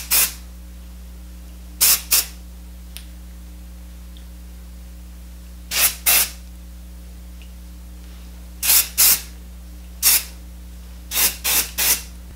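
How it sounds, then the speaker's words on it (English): Texture spray misted onto sectioned hair while styling extra-volumized loose waves, in short hissing bursts, often in pairs, each about a quarter second, with quiet pauses between them, close to the mic over a steady low hum. "you want to do the same when you're applying the texture spray."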